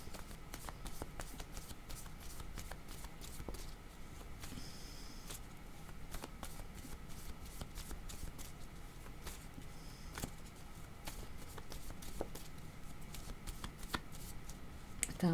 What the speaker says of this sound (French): mes cartes sont mélangées